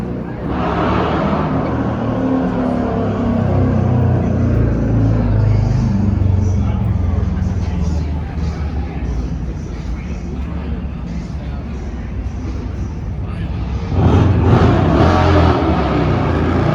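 Road traffic on the Las Vegas Strip heard from a pedestrian bridge, a dense continuous rumble of engines with cars passing, growing louder near the end, mixed with distant crowd babble.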